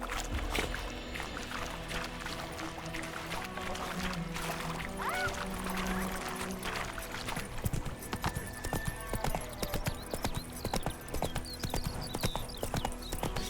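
Geralt's horse Roach in The Witcher 3, around White Orchard, plods with soft background ambience at first, then breaks into rapid, rhythmic clip-clopping hooves that carry through the rest of the clip.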